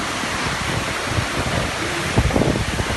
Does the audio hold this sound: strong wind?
yes